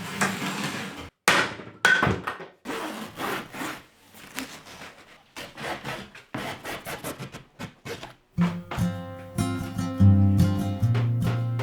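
An old hammer that came with a very old cottage under renovation strikes wood in a run of irregular, sharp, close knocks. Near the end a steady droning tone runs under the blows.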